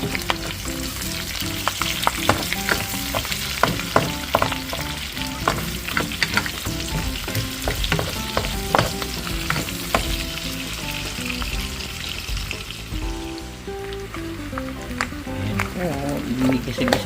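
Garlic, onion and ginger sautéing in a pan for a no-soy-sauce adobo, a loud close sizzle with stirring clatter throughout, while a background melody plays and a voice speaks over it.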